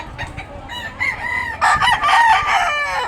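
A rooster crows loudly and close by, a long strained call that rises and holds, with fainter clucking at the start.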